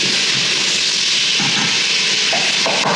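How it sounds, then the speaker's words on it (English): Steady, loud sizzling hiss of onions frying in a pan, continuous and close, with no voices. "Just letting my onions fry"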